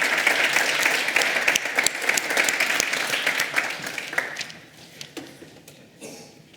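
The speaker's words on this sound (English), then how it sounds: "Here's a big round of applause to them." Conference audience at a microfinance and workers buyout event claps warmly after a panel discussion; dense applause at first, then thinning into scattered individual claps and fading out.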